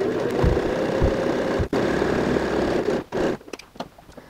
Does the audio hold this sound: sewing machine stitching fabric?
yes